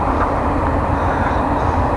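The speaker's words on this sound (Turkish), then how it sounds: "şehrin merkezinde tren geliyor, duyuluyor mu bilmiyorum da." Train arriving from Helsinki in Lahti city centre, a steady broadband rumble and roar that holds level throughout, fairly loud, with no clear talking.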